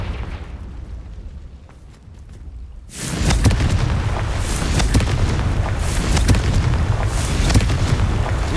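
The Confringo blasting spell erupts in a Harry Potter video game with a sudden loud blast partway through, followed by a dense, sustained roaring rumble that fills the rest of the moment.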